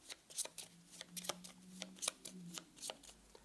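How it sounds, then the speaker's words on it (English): Discard pile of Pandemic board game cards being shuffled by hand, a quick series of crisp riffling snaps and flutters in rapid irregular bursts, close and fairly quiet, with no talking. "Shuffle this whole discard pile"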